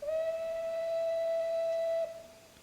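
A GCR class 9N steam locomotive whistle in Train Simulator 2019 gives one long steady blast that holds a clear single tone for two seconds and then cuts off, heard alone.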